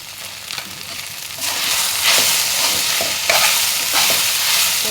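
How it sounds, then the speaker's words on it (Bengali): Okra and potato frying in a pan, a loud continuous sizzle that swells as the pieces are stirred, with several brisk scraping strokes of the spatula. "এটা আমার ভেন্ডিটা আর একটু নাড়াচাড়া করলে হয়ে যাবে"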